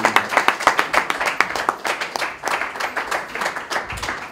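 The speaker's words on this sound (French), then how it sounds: "Applaudissez très très fort" Audience at a press conference clapping, a dense run of individual hand claps that rises and dips in loudness, close and lively, with no speech over it.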